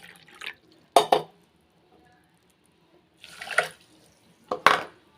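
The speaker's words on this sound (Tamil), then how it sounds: "அதில் அரை கப்பில் வந்து தண்ணி சேர்த்துக்கிறேன்" Half a cup of water pours and splashes in a few short bursts into a metal pan holding jaggery, with quiet gaps between them and no talking.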